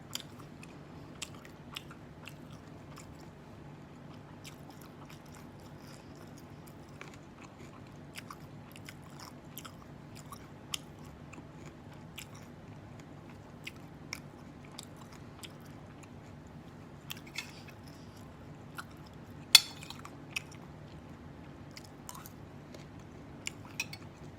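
Someone eating fried riceberry rice mixed with naem fermented pork salad: close, quiet chewing with scattered crunchy bites and occasional light clinks of cutlery, continuing steadily throughout.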